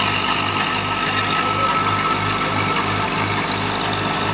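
A 2023 Seth Muhammad Tufail thresher driven by a tractor threshes wet wheat, a loud, steady mechanical drone with a rhythmic low pulsing knock that runs continuously and close, with no voices.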